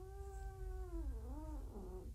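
A kitten gives a sustained, tonal growl that rises and bends into a wavering yowl, heard close and alone over a low background hum.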